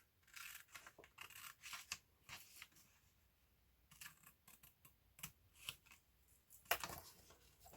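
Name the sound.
scissors cutting paper along a fold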